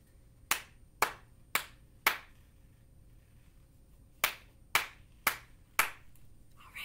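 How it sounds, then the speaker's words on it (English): Eight sharp hand claps spaced in two groups of four, a steady echo-clapping pattern from a children's music activity, close and clear against a quiet room with no talking. "you're going to copy my clapping"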